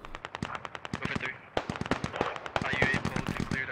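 Rapid automatic gunfire in the military shooter game Squad, with quick, evenly spaced shots that are loud and close, including a brief pause and then a denser, heavier burst.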